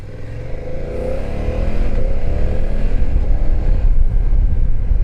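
A BMW F 900 GS two-cylinder motorcycle ridden in dynamic mode revs up through climbing engine pitch, loud and close, mixed with steady wind and road rumble.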